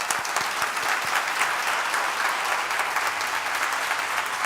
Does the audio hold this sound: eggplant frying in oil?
no